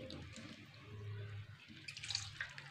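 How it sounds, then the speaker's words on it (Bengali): Soaked jujubes pressed to strain out their water, a faint, quiet trickle and drip of liquid with soft wet handling noises, close but low in level. "কুলগুলো ভিজিয়ে রেখেছিলাম সেগুলোকে ভালো করে জলটা ছেঁকে ছেঁকে যতটা পারা যায় সেটা তুলবো"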